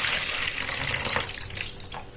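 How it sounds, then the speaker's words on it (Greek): Lukewarm water for whole wheat bread dough, 300 grams, pours in a steady splashing stream into a bowl, close and even throughout. "Ξεκινάμε λοιπόν με 300 γραμμάρια χλιαρό νερό."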